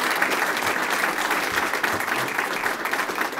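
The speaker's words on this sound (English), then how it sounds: "And a round of applause here." An audience at a US Army NCO induction ceremony gives a round of applause, dense and sustained clapping filling the room throughout.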